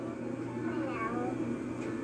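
A household cat meows during a family gathering, its short cry close by and set against a steady hum of room noise and chatter.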